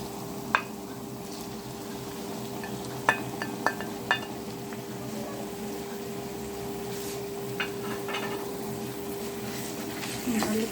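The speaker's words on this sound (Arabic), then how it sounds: "هنزل بقى باللحمه" Minced meat hits sautéed onions in a pan and is stirred: a steady low sizzle runs throughout, punctuated by a few distinct clinks and scrapes of a utensil against the pan, with no voices.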